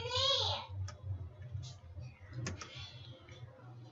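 A computer mouse clicks a few times, faint sharp ticks scattered over a low background hum, with brief indistinct voice sounds at the start.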